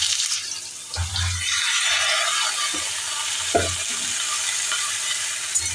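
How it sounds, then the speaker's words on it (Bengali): Ridge gourd drops into hot oil with black cumin and turmeric and sizzles loudly. The steady hiss carries a couple of dull thuds and stirring knocks, with no one talking. "হলুদ দিয়ে আমি সমস্ত ঝিঙেগুলোকে ছেড়ে দিলাম।"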